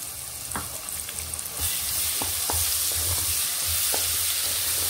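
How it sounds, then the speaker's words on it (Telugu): Ginger garlic paste frying in a pan on low heat for gongura chicken pickle makes a steady bright sizzle that grows louder partway through, with occasional stirring taps and no talking. "ఇప్పుడు ఈ అల్లం వెల్లుల్లి పేస్ట్ బాగా ఫ్రై అవ్వాలండి"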